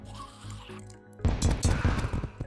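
Gun firing crystal bullets in Terraria with the Calamity mod, a quick run of punchy shots and shattering impacts after a second of background game music.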